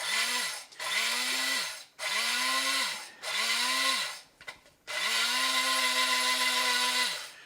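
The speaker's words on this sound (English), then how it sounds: "We're putting it in a little grinder like this." A small grinder pulses granulated sugar into powder in a home kitchen while making a Black Forest cake. The motor whines in five close, loud bursts, each rising and falling, with short pauses between them.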